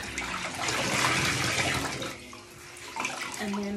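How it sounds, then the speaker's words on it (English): Running water pours over a bleached T-shirt being rinsed, a loud, splashing tap stream that dips briefly midway as the fabric shifts, then keeps flowing. "Rinse the shirt out because you don't want to wear"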